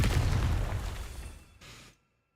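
Confringo fire curse exploding in Hogwarts Legacy: a heavy booming blast that rolls off and fades, then a short second burst before silence.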